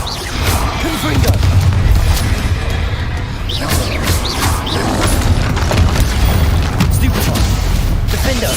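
A Confringo fire spell bursts in the Hogwarts Legacy video game, a loud boom with crashing, whooshing impacts, heard amid dense continuous battle noise with a voice talking over it.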